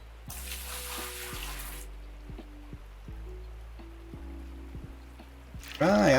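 Water rushing through a gold pan while panning in the hills: a hissing pour of about a second and a half, then a quieter trickle and soft splashes over a low hum, with a voice briefly at the end.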